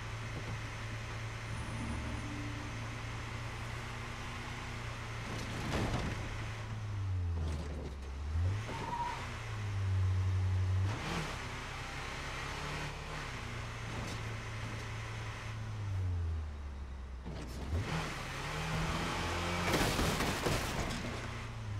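Car driving in the zombie survival game State of Decay 2, a steady engine drone that rises and falls as it accelerates and revs, heard continuously throughout without talk.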